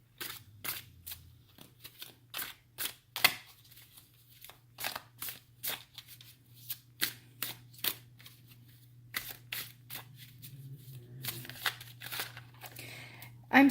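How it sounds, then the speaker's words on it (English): Crisp, rapid riffling bursts of shuffled playing cards, repeated in quick clusters with short pauses, close and fairly quiet over a low hum. "I am just going to be shuffling the cards"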